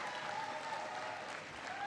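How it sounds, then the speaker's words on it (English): Audience applause at a community college event honoring the college president, a steady, continuous wash of many hands clapping, moderately distant and even throughout without a break. "Give Lucille a big round of applause."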